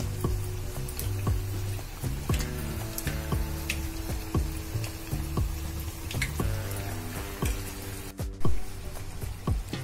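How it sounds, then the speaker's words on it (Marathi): Bhaji fritters made from rice flour and wheat flour deep-frying in hot oil until crisp. Quiet, steady bubbling is broken by frequent sharp crackles and pops, with soft tonal sounds in the background and no speech. "चांगले खरपूस होईपर्यंत तळा"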